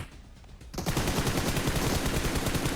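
Dense automatic gunfire from the mobile battle royale game PUBG Mobile bursts in after a quieter moment and keeps up a rapid, loud, continuous stream of shots with no talk over it.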